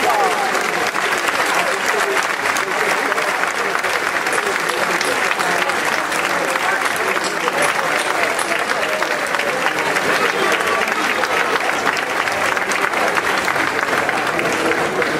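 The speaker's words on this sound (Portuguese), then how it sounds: "Peço, por favor, que todos vocês deem um grande aplauso para quem está a olhar por nós." A large audience at an outdoor neighbourhood festival show in Bairro São Vicente Paulo claps loudly and steadily, a dense continuous wash of applause for the whole stretch without a break.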